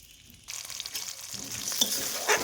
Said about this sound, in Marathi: छान तेलामध्ये फ्राय करून घ्यायचं